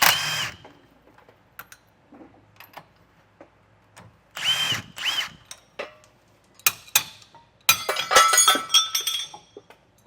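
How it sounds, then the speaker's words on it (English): Power tool work removing 3/4 nuts from U-bolts on a trailer axle during a shock absorber install: short loud bursts of an impact tool, with metallic clinks and rattles of loosened nuts between quieter pauses, no talking. "Now we are going to start with our 3/4 nuts on top of the U-bolts that are there, and we'll remove those."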